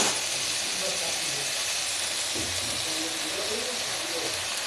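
Fish dropped into a hot pan sets off a loud, continuous, even hiss of sizzling oil, with a voice faintly underneath.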